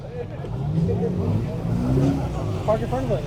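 A car engine rumbles nearby as a vehicle rolls slowly into a car meet, with people talking over it.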